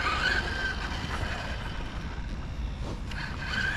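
A Tamiya BT01 radio-controlled car in front-drive setup runs steadily with a continuous whirring drive and rolling noise, fairly loud and close, with slight swells in intensity and no voices.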